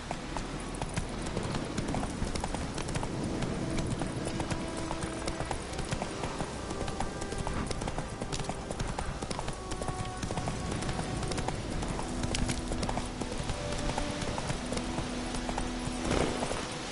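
Hooves of the horse Roach galloping in The Witcher 3: Wild Hunt, a fast steady clip-clop rhythm running throughout under ambient game music.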